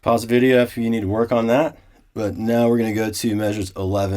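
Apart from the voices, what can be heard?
None of the usual background noises is heard.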